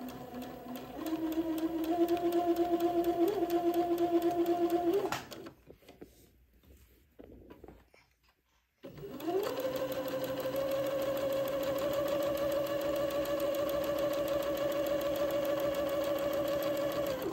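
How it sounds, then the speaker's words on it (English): A sewing machine stitches the second pass of a French seam on fabric for a Christmas bishop dress, running steadily for several seconds, pausing into near silence, then resuming with a long, even hum. "I'm going to sew the second pass of the French seam."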